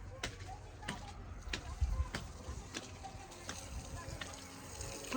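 Water sprays from a pipe over crops on a farm, a steady broadband hiss and splatter with a few sharp knocks, continuous and moderately close.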